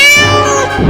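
A cat gives a single loud, close, drawn-out meow lasting about a second.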